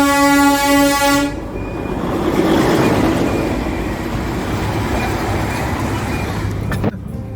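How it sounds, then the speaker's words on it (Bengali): A toy train in Kurseong gives a loud, sustained horn toot, then rolls past nearby with a steady rumbling clatter that fades slightly before a sharp knock near the end. "এ দেখো টয় ট্রেন আসছে"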